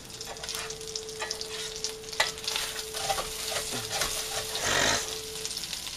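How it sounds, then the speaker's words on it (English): An egg omelet sizzles in a lightly oiled frying pan with the egg sticking, a steady crackling fry punctuated by scraping stirs and a louder burst near the end, close by with no talking. "There was a little bit of oil in the pan, though. You guys saw it sizzling."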